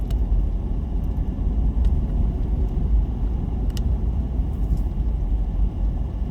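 A car nicknamed Super Crusher drives a scenic mountain road near Fontana Lake, North Carolina, giving a steady, loud low engine and road rumble with no talk.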